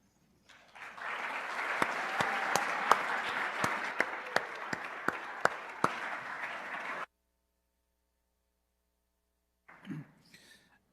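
A sustained round of applause from a crowd at a university employee recognition ceremony, steady and fairly loud for several seconds with a few sharp individual claps standing out, then it stops abruptly.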